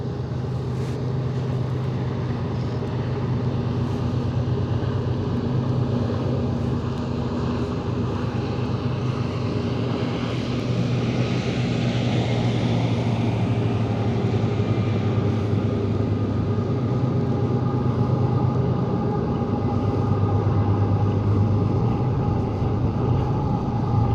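Trains rumble across a bridge over the Missouri River in a steady, loud, continuous roar with low mechanical drone, heard from an island beneath the span.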